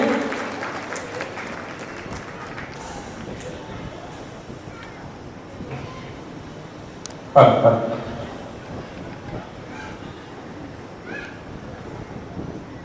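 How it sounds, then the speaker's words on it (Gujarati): An audience at a Gurjar Khatriya Kadiya Samaj community get-together in Vasavad applauds Kanubhai Gediya. Dense, sustained clapping fills the hall, with a sharp louder burst partway through before it settles back to a steady patter. "શ્રીમાન કનુભાઈ ગેડિયા એકવાર જોરદાર તાળીઓના નાદ સાથે વધાવી લઈએ."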